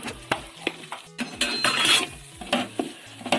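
Spiced meat masala with chilli powder for Kerala meat rice being stirred in a pan, a spoon scraping and knocking against the metal in a quick rhythm over a light sizzle, close and clear, without voices.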